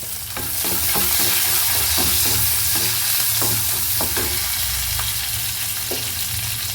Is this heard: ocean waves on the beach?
no